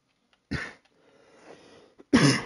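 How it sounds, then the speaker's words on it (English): Two bursts of coughing, one at the start and a harsher one at the end, with a quieter rough throaty rasp between them, close up. "Stop coughing"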